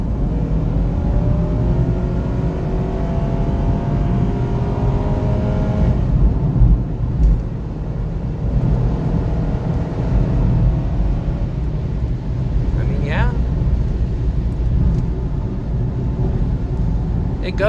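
A 2009 Honda CR-V engine accelerates during a pull, heard from inside as a steady rumbling drone with a rising whine, under road noise and occasional talking.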